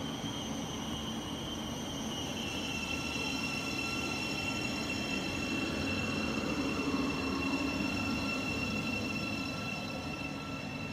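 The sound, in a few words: Thameslink Class 700 train passing through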